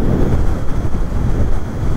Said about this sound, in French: Oh mais il y a tellement de vent.